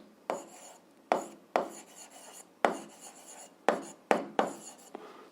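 Pen strokes scratch across paper in about nine short bursts, each with a sharp onset and a brief fade, close and alone with no talk, during physics homework notes about a floating ball.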